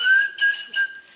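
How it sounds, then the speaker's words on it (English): A short warning whistle of the kind used to signal that ICE is in the area: three brief, clear whistled notes at a steady pitch, close and loud, each lasting a fraction of a second. "The short whistle sound like this"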